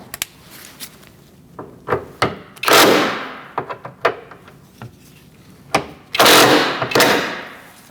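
Lift gate bracket being tightened down on a 2006-2011 Chevrolet HHR: scattered metallic clicks and knocks, broken by two longer, louder rasping bursts of a ratchet or driver, close up with no talking.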